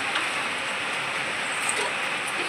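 Rain falls steadily as an even, broadband hiss, moderately loud and unbroken for a couple of seconds, with no voices.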